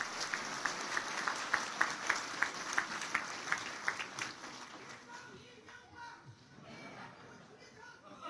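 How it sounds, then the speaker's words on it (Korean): Rally crowd claps to welcome a former Seoul mayor on stage at a Korean political event, a rhythmic run of sharp claps that fades after about four seconds into murmuring crowd noise and faint talk. "여러분의 심찬 박수로 맞이해 주시기 바랍니다"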